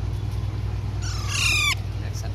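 Alexandrine parakeet chicks let out one short burst of harsh, rasping calls lasting under a second, close by, over a steady low electrical hum.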